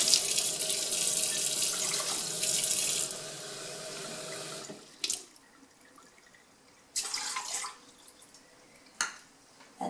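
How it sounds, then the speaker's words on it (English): Warm water runs from a kitchen tap into a cup in a steady loud gush for about five seconds, then drops to a quieter trickle broken by a few short splashing bursts. "So I'm going to get a cup of warm water."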